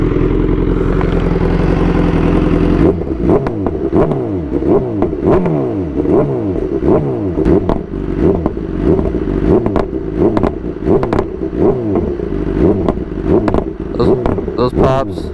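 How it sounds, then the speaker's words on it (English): A BMW S1000RR motorcycle with a full Akrapovic exhaust idles, then is revved repeatedly in short low-RPM bursts, its deep exhaust note rising and falling with crackling pops, loud and close. "it is a full Akrapovic exhaust, which sounds insane. I'll give you guys a quick rev"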